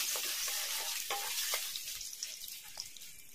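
Bay leaves, dried red chilies, cumin and crushed whole spices hitting hot oil, a bright, loud sizzle that gradually settles, dotted with small pops and stirring taps, heard up close without speech.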